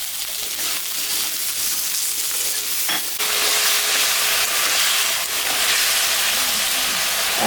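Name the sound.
vegetables frying in a pan with salt and turmeric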